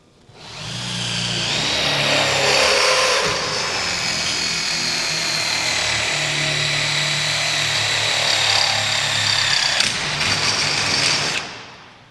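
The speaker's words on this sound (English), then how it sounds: "when you're drilling these holes, you want to be careful." A power drill drills holes in a pontoon boat rail, whirring continuously at close range for about ten seconds, steady and loud, then cutting off near the end.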